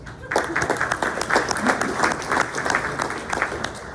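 Audience applause at a community morning event honoring police and fire, dense steady clapping from a crowd that swells after a brief quiet start and holds for several seconds.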